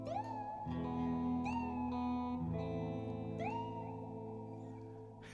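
A voice mimics a cat, giving a few drawn-out meows with a warbling, processed edge over a steady droning tone.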